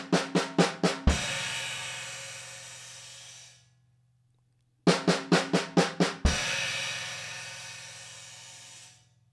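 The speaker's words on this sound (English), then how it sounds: "a seven-stroke roll on the snare drum, with the final beat landing on the crash cymbal on the downbeat" Snare drum seven-stroke roll ending on a crash cymbal on the downbeat, played twice: a quick burst of sharp snare hits, then a bright crash that rings out and decays, with a pause between the two passes.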